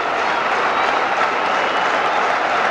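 A huge baseball crowd roars at Fenway Park during a 1990 Royals at Red Sox game with the bases loaded, a dense, unbroken wall of cheering and noise from tens of thousands of fans.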